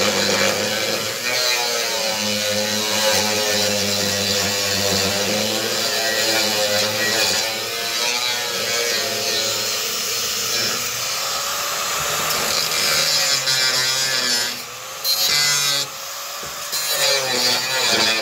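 Power tool with a cutting disc grinding through wood, a continuous loud whirring buzz that holds steady for a long stretch with brief dips near the end.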